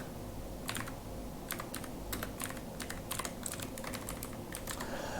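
HTML code being typed on a computer keyboard, quick clusters of light clicking keystrokes in irregular bursts with short pauses, close but fairly quiet, no talking.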